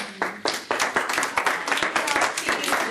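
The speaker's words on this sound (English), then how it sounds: "Can we give him a hand?" Small group of adults clapping for a classmate in an indoor class session, a few seconds of uneven, close hand claps with voices talking over them.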